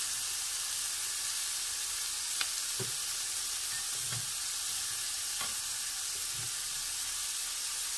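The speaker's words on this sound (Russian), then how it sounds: "Лук я не жарю, а немного просто обжариваю, так чтобы он чуть-чуть обмяк." Onion lightly sautéing in a pan gives off a steady, even sizzle, broken by a few soft taps and scrapes of stirring, close by and with no talk.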